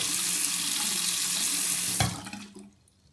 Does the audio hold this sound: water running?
yes